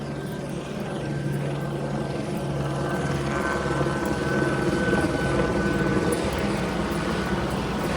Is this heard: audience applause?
no